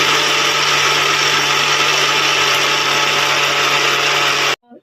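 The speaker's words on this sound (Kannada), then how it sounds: "ಸೊ ಮೀಡಿಯಮ್ ಆಗಿ ನೀರನ್ನ ಆ್ಯಡ್ ಮಾಡಿಕೊಂಡು ಗ್ರೈಂಡ್ ಮಾಡ್ಕೊಳ್ಳೋಣ" Mixer grinder blending chutney with a medium amount of water, a loud steady high-pitched motor whir running continuously at close range before cutting off abruptly near the end.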